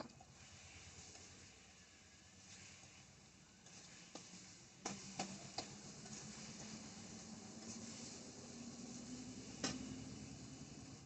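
Spices with salt and turmeric fry in oil in a pan for a village-style crab curry, a low steady sizzle broken by several sharp clinks and scrapes of a spoon stirring against the metal.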